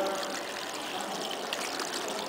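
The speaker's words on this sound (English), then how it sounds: "here you can see the water coming out" Water trickles and pours steadily out of a homemade natural water purifier filtering dusty water, a close, continuous splashing stream with no talking.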